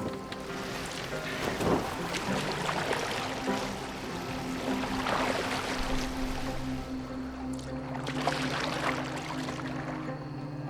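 A boat sailing on open water in Assassin's Creed Valhalla, with a continuous wash of waves and wind rising and falling gently and no voices.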